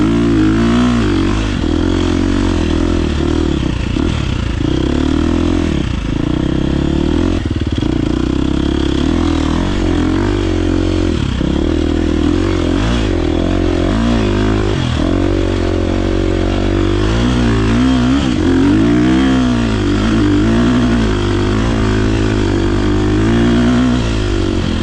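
A KTM XC-F 350 dirt bike ridden solo in the desert on Tusk EMEX T35 tires roars steadily and loud throughout, its engine rising and falling with throttle changes and a clattering edge.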